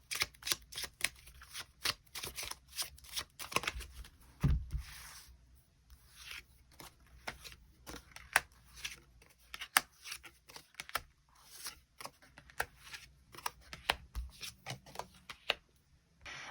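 Tarot cards are shuffled and drawn by hand in a quiet room. The soft, crisp riffling and slapping comes in quick irregular bursts with brief pauses, close and fairly faint throughout.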